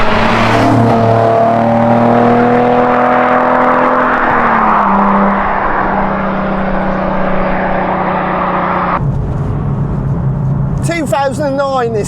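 A 2009 Nissan 370Z sports car engine revs hard and holds a loud, sustained note, then drops away sharply, with a voice speaking in the last few seconds.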